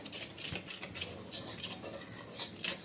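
Continuous scraping and clinking of a spoon stirring dry cake ingredients with salt and baking soda in a bowl, close up, steady and brisk with no voices.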